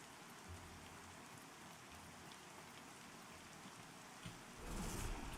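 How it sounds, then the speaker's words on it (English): Steady rain falls in the Pantheon game world, a soft continuous patter heard alone, swelling briefly louder near the end. "It's raining."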